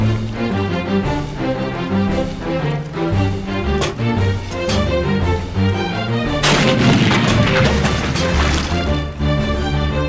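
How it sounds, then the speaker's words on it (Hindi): A booming cannon-like blast bursts out over busy cartoon music, followed by a crackling, hissing rumble that lingers loudly. "बिल्लू चला तोप।"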